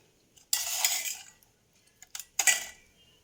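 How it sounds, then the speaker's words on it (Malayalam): Flour stirred into a batter of jaggery syrup and egg, heard as a spoon scraping and clinking against a bowl: one longer stroke, then a few quick knocks, close and moderately quiet with no talk. "ഇനി ഇതിലേക്ക് പൊടിയിട്ട് ഇളക്കി നമുക്ക് പാകത്തിനെടുക്കാം."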